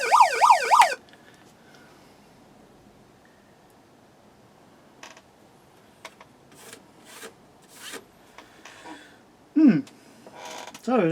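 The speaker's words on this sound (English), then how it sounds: "And the siren works." A warbling electronic siren on a Tamiya toy Jeep wails briefly at the start, then after quiet handling clicks and rustles it sounds again in short bursts near the end.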